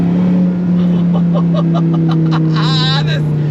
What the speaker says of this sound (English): Heel toe downshifting like a freaking pro